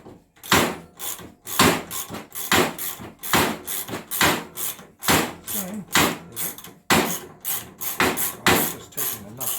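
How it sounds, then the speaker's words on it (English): Repeated clanks and metallic knocks while working a nut loose on a 500cc JBS racecar, irregular sharp hits with short pauses between them, close and fairly loud. "Just taking the nut off."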